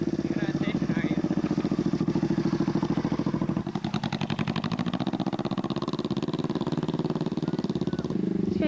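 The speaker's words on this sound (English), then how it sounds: "He's gonna go ride the motorcycle." A Talaria Sting R MX4 electric dirt bike runs on a farm with a steady, close mechanical whir that rises in intensity partway through, while people talk and shout over it.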